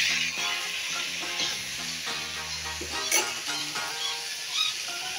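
Oil heats in a pan for a gongura chilli pickle, giving a soft, constant sizzling hiss close by, with a few light clinks over steady background tones.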